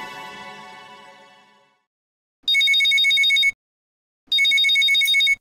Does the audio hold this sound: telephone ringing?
yes